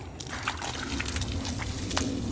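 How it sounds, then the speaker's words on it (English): Water draining out of filled barrels through a drain, a steady close rushing and sloshing flow that continues without a break, with no voices. "it'll drain all the water out of those barrels"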